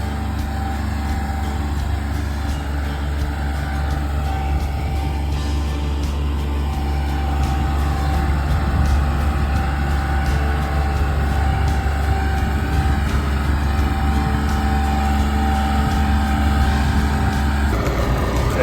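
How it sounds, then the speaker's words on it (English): Kubota L3302 compact tractor running a brush hog mower while clearing brush and trails, a steady loud engine drone with a continuous low hum that holds throughout, no voices over it. "And now he's running the brush hog."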